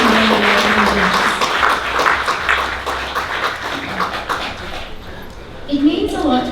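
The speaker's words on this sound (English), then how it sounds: "I would actually like to invite everyone to have a round of applause for everyone seated here today" Guests applauding at an engagement party in a family home, a dense burst of clapping that fades over several seconds with voices talking through it.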